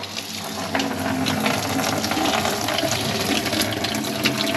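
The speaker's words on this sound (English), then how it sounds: "I hear water." Water rushing through newly connected plumbing lines in a guest house renovation, a steady hissing gush with sputtering bursts as air clears from the pipes, continuous and close throughout.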